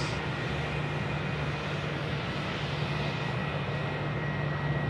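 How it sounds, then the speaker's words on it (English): A Jetstar airliner taxies along a taxiway at Sydney Airport, its engines making a steady, unbroken rumble and whine that stays at an even level from start to finish. "Jetstar now coming up on taxiway Charlie here in front of us."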